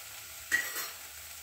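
Kashmiri chili powder hitting hot oil in a pan with cooked raw banana masala, a short sharp sizzle followed by a softer stir and steady low frying hiss, close and fairly quiet.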